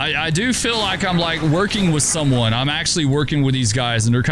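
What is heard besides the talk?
None of the usual background noises is heard.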